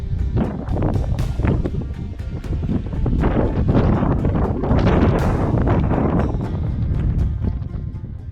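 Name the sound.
wind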